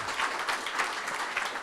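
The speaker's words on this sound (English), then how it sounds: "Get a round of applause, Andre." Audience applause at a live developer's panel for a tank video game, a steady, dense clapping from a crowd that rises and falls in gentle waves for under two seconds.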